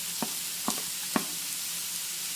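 Grated carrot, beans and onion being stirred in a frying pan for broken wheat upma, with a steady soft sizzle and a few brief scraping strokes from the spoon near the start.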